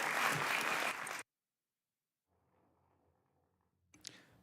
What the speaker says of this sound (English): Let's give Mr. Shaughnessy a big round of applause.